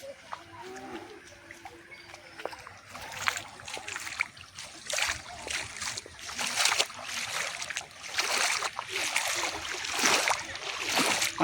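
Floodwater rising through a village splashes and surges in repeated bursts, fairly faint and uneven, with some background noise throughout.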